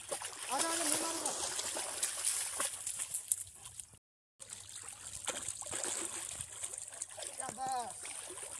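Water splashes and trickles steadily while a Labrador dog is bathed, a continuous wet spatter with voices talking and calling throughout.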